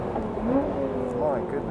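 Lotus Evora GT430 driven flat out on a race track, its engine droning steadily with rising and falling pitch as it accelerates then brakes, heard under continuous commentary from someone speaking.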